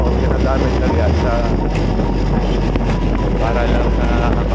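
A motorboat engine runs steadily with a constant low rumble and wind noise across the microphone, loud and close throughout.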